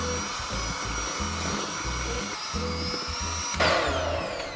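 An electric mixer whirring on low through a yeast mixture, a steady motor drone pulsing in a rhythmic beat, with a brief louder surge near the end.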